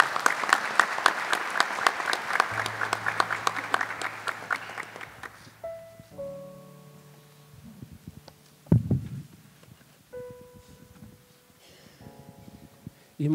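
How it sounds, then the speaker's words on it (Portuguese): A church congregation at Mass claps together in a dense burst for the first few seconds, then the applause fades out, leaving a quiet room with organ or keyboard tones and a loud thump. "Vamos aplaudir a palavra de Deus."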